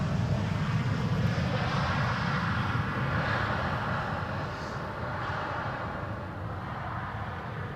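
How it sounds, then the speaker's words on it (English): A KLM Embraer 195 E2 passenger jet arriving from Stavanger on approach to runway 18R at Amsterdam Schiphol makes a steady, broad engine roar that stays loud throughout and eases slightly toward the end, with no voices. "This is KLM flight 1174, arriving from Stavanger."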